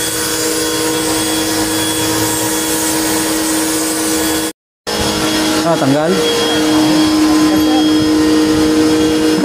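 A loud machine drones steadily during hands-on air conditioner cleaning at a training session, briefly cutting out before resuming, with people talking over it.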